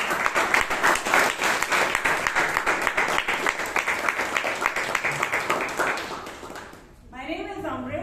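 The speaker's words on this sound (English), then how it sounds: "we can give ourselves a big round of applause." A room of people at a Toastmasters club meeting bursts into a long, dense round of clapping that holds steady for several seconds, then fades as a voice begins speaking.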